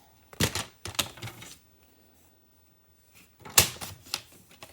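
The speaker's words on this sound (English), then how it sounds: "You could take a strip here, and we can cut that down." Scissors snipping a paper strip for a gift card holder: a few sharp, close cuts in two short clusters separated by a quiet pause, no talking.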